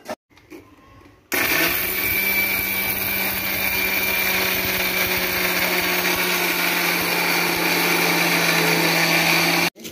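Mixie grinder grinding curry leaves into powder, starting abruptly after a brief quiet moment and then running as a loud, steady high-pitched whir until it cuts off at the end.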